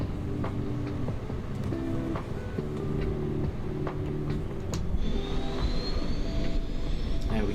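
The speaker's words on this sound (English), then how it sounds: "The engines are spinning" Airbus A380 jet engines spooling up in a flight simulator game: a constant loud turbine roar with a layered engine drone and a thin whine that rises slowly in pitch, heard alone and growing a little stronger toward the end.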